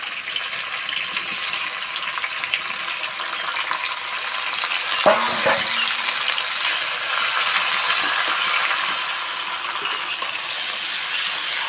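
Tomatoes frying in hot oil with bay leaves and dried chilies, a loud, steady hiss and crackle that holds throughout, with a brief clatter near the middle as the pieces are stirred; no one talks.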